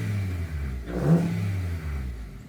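An 8-cylinder car engine treated with Restore additive idles smoothly, a steady low hum with a brief swell of revving in the middle.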